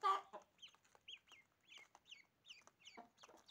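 A domestic hen clucks repeatedly in short, soft calls alongside her newly hatched ducklings, with a louder burst at the start and steady close-up clucking throughout, no talk.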